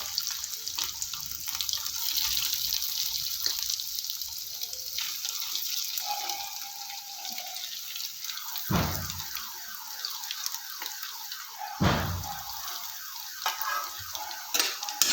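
Boiled potatoes for a samosa filling fry in a pan with a soft, continuous sizzle, broken by a few louder scraping and clattering knocks against the pan.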